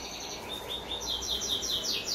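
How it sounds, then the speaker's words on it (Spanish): Small birds chirp in quick, high repeated tweets, fairly close, over a soft steady background hum with no talking. "Escuchen los pajaritos como están."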